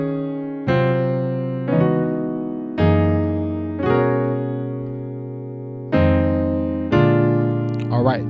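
Piano playing the second intro section of a song, six full chords struck at a steady unhurried pace, each ringing and fading before the next; close, clear and unaccompanied.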